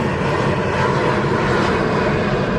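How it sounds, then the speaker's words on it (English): A large airplane passes overhead, its engine roar a loud, steady broadband rumble throughout. "that's a very big airplane."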